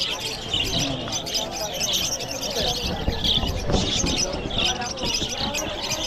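Small birds in a pet market, among them African lovebirds and finches, chirp and tweet in repeated bright bursts amid a busy crowd, with people talking and ambient market noise underneath.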